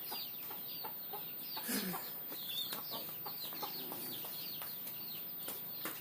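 Chickens cluck softly and intermittently in a farm coop, a steady background of faint calls and rustling with no talk over them.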